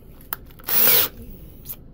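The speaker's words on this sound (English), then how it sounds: "a punch on my drill, kind of use that punch." A power drill fitted with a punch bit whirs in one short, loud burst while drilling a part for a twin-motor RC catamaran build, with quiet handling clicks before and after.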